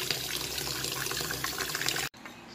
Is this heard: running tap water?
yes